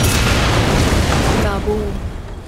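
An in-game explosion from Far Cry 6 gives a loud, dense rumbling boom that fills the start and decays over a couple of seconds, with a voice speaking briefly as it fades.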